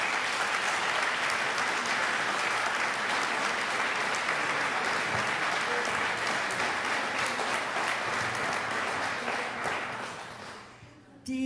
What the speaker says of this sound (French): j'aimerais vraiment une bonne main d'applaudissements aussi pour les bénévoles d'Entraide